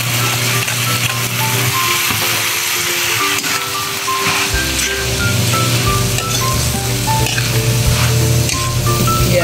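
Vegetables hit a hot pan in a home kitchen and sizzle steadily throughout, a close, loud frying hiss with faint clinks of utensils and some tonal background sound.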